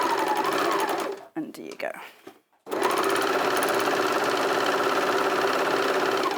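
A 3-thread overlocker sewing machine gathering fabric runs with a loud, steady mechanical buzz, drops out briefly while a voice speaks, then starts again at full speed.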